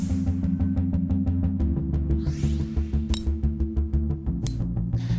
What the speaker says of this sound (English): That is the sound of two of the top-selling game improvement irons on the market that are